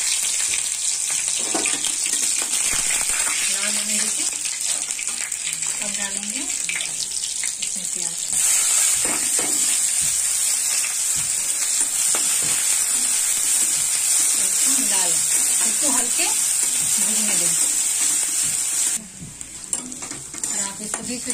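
Cumin seeds, fenugreek and green chillies sizzle steadily in hot oil in a pan for a dal, with scraping stir strokes throughout; the frying stays loud and continuous, easing briefly near the end, with no talking.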